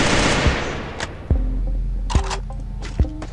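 Gunfire in a shooting video game, a handful of sharp single shots spaced out over a few seconds against a noisy background, with short metallic clicks and ringing tones between them.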